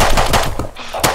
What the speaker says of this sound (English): Run into my shotgun trap, please.